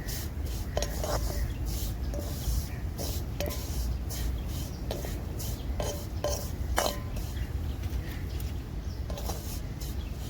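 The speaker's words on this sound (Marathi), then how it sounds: "तर आता ना शेवाळ्या मी परतून घेते तुपामध्ये फक्त दोन मिनटं" Vermicelli being stirred and roasted in ghee over a new earthen wood stove, soft scraping and repeated light metal clinks of a spoon against the pan over a steady background hiss.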